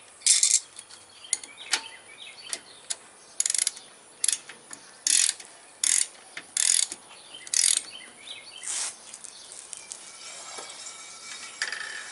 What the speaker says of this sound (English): this is a left-hand nut on this side, so I got to tighten it turning it to the left